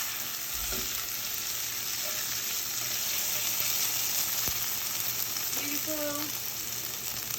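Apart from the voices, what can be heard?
sofrito frying and sizzling in pan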